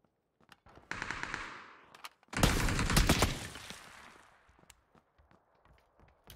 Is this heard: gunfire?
yes